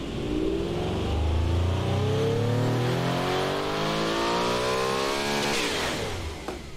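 A heavily built, high-torque car engine in the Automation game revs up in one long rising pull, loud and close, before the note breaks off near the end.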